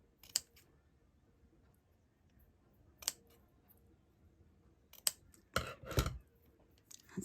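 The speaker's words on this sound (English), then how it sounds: "So my ribbon scissors." Ribbon scissors snipping satin ribbon at a craft table, a few sharp isolated clicks spaced seconds apart, then a louder cluster of cuts near the end, close and fairly quiet.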